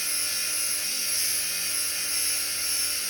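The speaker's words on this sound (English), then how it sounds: "use a different part of the grinder for a second" A bench grinder sharpening the teeth of a drum mulcher gives a steady, high-pitched grinding hiss that holds at an even loudness throughout, with no voices.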